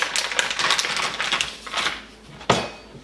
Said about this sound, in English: Now we're going to start cutting up the crab meat.